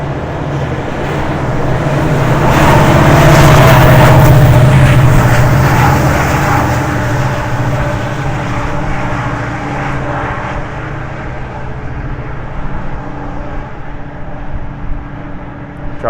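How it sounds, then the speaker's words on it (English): A GO commuter train rumbles past along the West Toronto Railpath on a windy December day, a loud passing roar that swells over the first few seconds and then fades into steady low rumble. "There goes the GO train."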